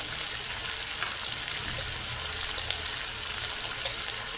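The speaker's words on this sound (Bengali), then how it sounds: "2 চামচে বড় চামচে 2 চামচে তেল দিয়ে আলুটা দিয়ে দিয়েছি" Potatoes frying in two large spoonfuls of oil for a Bengali egg-potato fry, giving a steady, dense hiss and crackle that stays even and close throughout, with no voices.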